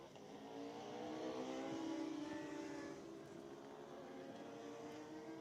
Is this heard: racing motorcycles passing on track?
yes